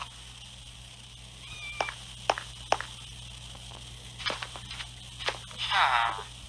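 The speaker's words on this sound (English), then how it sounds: "Little cat looking at me." Cat meowing at night in a Minecraft survival world near a village: a few short, sharp meows scattered over a steady low hum, ending in a longer drawn-out cry, fairly close and clear.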